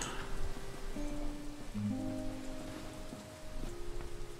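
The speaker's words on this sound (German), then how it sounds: "Vielen Dank für den Regen, Effert." Soft rain patters steadily and quietly in the fantasy video game Satinavs Ketten, a gentle wash of drops under faint tonal game music.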